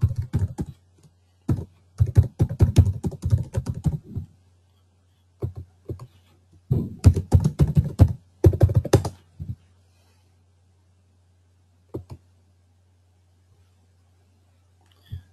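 Bursts of typing on a computer keyboard while resetting a password, quick clusters of key clicks separated by pauses, with a couple of lone taps near the end over a faint steady hum.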